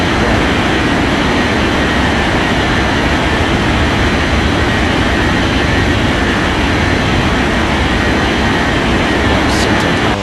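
A steady, loud, continuous roar of an airplane engine in an air traffic control video game, steady throughout as the plane rolls for takeoff down runway 14 right, with no speech over it.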